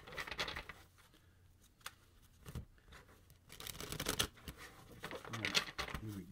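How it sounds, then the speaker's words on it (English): Tarot cards being shuffled, with bursts of riffling and papery flicks in several separate runs, fairly close, amid quiet room noise. "I'll do one more shuffle."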